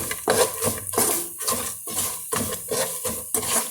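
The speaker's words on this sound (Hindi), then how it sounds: "थोड़ा सा इनको फ्राई करूंगी" Nuts fry in a pan while a utensil stirs them in a quick, steady rhythm, scraping and clinking against the metal about twice a second. The sound is close and moderately loud.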